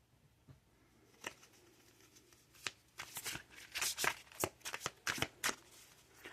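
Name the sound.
shuffling tarot cards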